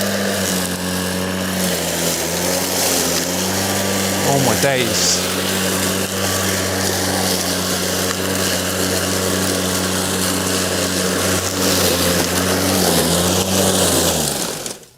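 Greenworks 60V battery lawn mower cutting long wet grass, a loud steady motor whine with shifting pitch as the blade bogs and recovers, a brief exclamation from a person over it.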